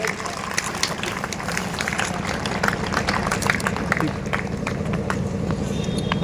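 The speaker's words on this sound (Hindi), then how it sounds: "पापा के लिए भी तालियां बजाइए भाई सभी लोग" An audience at a school education event of the Dr. Ambedkar Academy applauds a father: steady, dense clapping from many hands, moderately loud and continuous throughout, with faint crowd murmur underneath.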